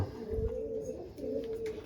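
Pigeons in a home loft coo in two low, drawn-out rumbling phrases close by, separated by a brief pause, with a soft thump at the start and no talking.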